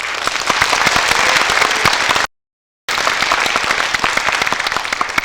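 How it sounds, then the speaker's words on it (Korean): An audience at a Korean graduate school alumni anniversary evening applauds loudly and densely as guests come out, a brief gap of silence splitting the sustained clapping. "내빈이 나오실 때마다 커다란 박수로 보내주시면 감사하겠습니다"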